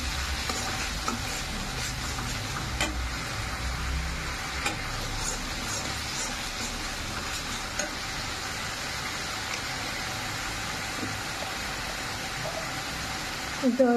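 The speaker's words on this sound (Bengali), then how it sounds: "সেটা একটু ভাজা ভাজা করে নেবো।" Tomato and onion paste fries in a pan, giving a steady, close sizzle with faint stirring throughout. There is a light background hum, with a brief clatter at the end.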